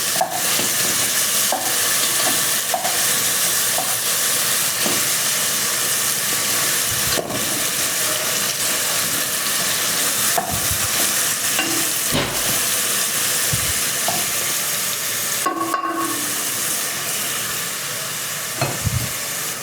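Onions and meat fry in a pot for a bean soup, a steady close sizzle and hiss with occasional stirring clatter, no talk.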